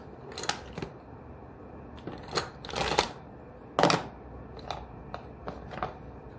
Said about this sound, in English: And I'm going to get out my little scissors.